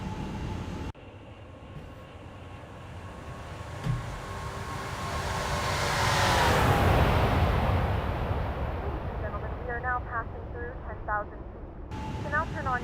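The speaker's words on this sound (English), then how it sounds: "That's the sound of big engines." Big airliner jet engines in a flight simulator game flyby, a broad roar swelling to a peak and fading away with a falling pitch sweep, followed by faint beeping tones near the end.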